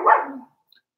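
A single short dog bark sounds close and loud, followed by silence.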